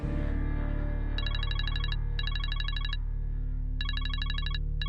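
Mobile phone ringtone trilling in repeated bursts of rapid high beeps over a steady low musical drone in a drama scene, clear and fairly loud.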